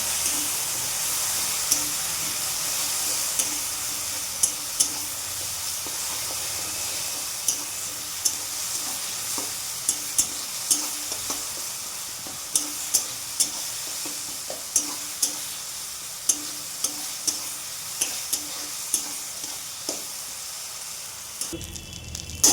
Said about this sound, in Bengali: এবার বাটাটা নেড়ে নেব।